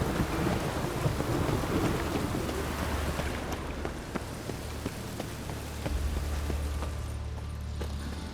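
Steady rain and rolling thunder in The Witcher 3, a dense continuous downpour with low rumbles throughout, some faint clip-clop sounds mixed in.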